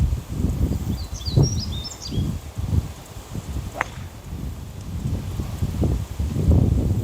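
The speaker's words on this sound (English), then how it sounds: "That wind's tough, man." Gusty wind on a golf course, rumbling and buffeting against the microphone in uneven bursts, with faint bird chirps high above it.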